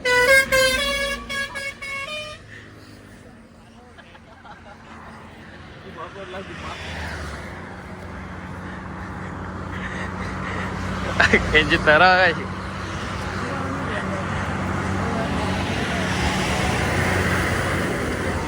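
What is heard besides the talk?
traffic noise with vehicle horns honking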